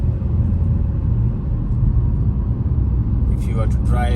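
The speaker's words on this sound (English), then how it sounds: "rumble strips. You can hear that, how it's noisy because of the suspension system." A Nissan X-Trail drives over road rumble strips, its tires making a loud, continuous low rumble that dominates throughout, with a voice briefly cutting in near the end.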